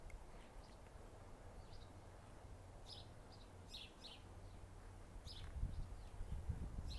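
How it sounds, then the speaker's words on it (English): Birds singing outdoors, scattered faint chirps and short tweets at a distance over a steady low outdoor rumble, with a little nearby rustling toward the end. "You can hear the birds out here singing"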